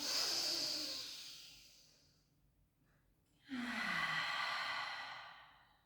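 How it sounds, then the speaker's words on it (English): A deep breath drawn in during a pilates class, a soft airy inhale rising and fading, then a pause and a second, louder breath with a throaty low edge, close and alone without talk. "Take a beautiful breath in."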